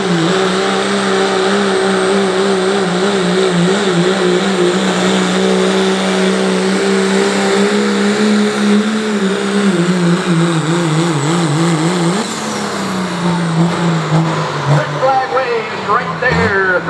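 A pulling truck called the Outcast roars at a truck and tractor pull in Caldwell, Ohio: a loud, sustained engine drone with wavering pitch that climbs near the end, with an announcer talking over it.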